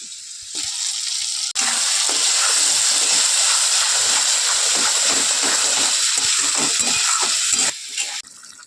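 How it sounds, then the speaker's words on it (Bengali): Spices sizzle in a pan as a village-style pomfret curry with mustard and poppy seed paste is cooked, a loud, continuous hissing fry that starts and cuts off abruptly. "হালকা একটু ভেজে নিয়ে মশলাগুলো দিয়ে কষিয়ে নেব"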